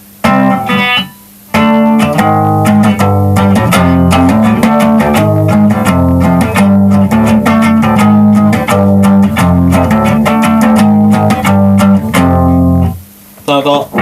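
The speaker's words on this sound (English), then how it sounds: "And then I've got the acousticy sound." Guitar played through an acoustic-style effect setting in a rig, strummed chords ringing steadily and fairly loud for most of the passage with a brief gap near the start, no talking.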